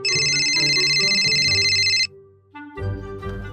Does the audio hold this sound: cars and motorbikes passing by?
no